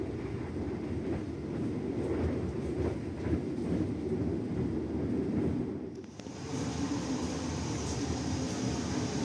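The Gaya Baru Malam Selatan passenger train runs on Indonesian rails with a continuous rumbling roll and faint rhythmic clicks. The din dips briefly near the end, then resumes at a steady level, and no voices are heard.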